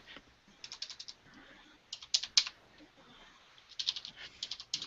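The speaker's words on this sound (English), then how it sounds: "I'm typing something in real quick" Quick bursts of typing on a computer keyboard, clusters of light key clicks separated by short pauses, fairly close and quiet, with no talking over them.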